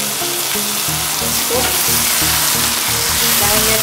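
Marinated mutton sizzles and fries loudly in a hot pan for a restaurant-style bhuna masala, a dense continuous crackle with stirring, while a voice speaks briefly.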